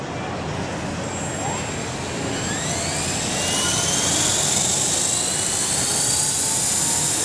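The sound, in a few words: Copter X remote-control helicopter flying indoors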